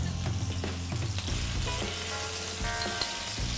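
Floured beef pieces browning in a hot pan for stew give a dense, loud sizzle with crackling spits and some low clatter of the meat being moved, close and continuous with no talk.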